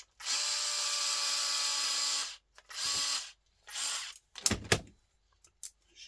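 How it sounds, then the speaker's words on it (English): An old electric screwdriver unscrews parts while electronics are scrapped for small salvage, with several whirring runs in short bursts separated by pauses and clicks, fairly close and alone. "We'll get a screwdriver here now for that."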